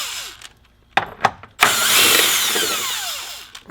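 A power tool zaps off two 10 mm bolts while a power steering cooler kit is fitted to a Nissan 370Z, a few short close bursts first, then one loud sustained whirring run lasting a couple of seconds with no talk.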